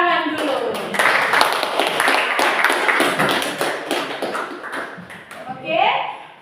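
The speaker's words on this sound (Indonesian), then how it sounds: "Tepuk tangan dulu." Scattered, uneven clapping from a small audience at a teacher-training English presentation, sharp individual claps mixed with voices talking over them.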